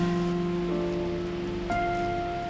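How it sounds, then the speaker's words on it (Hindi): Rain falls in the mountains at Shimla, a steady, close wash of patter running throughout, mixed with sustained tonal hum lines. "पहाड़ों की पहली बारिश"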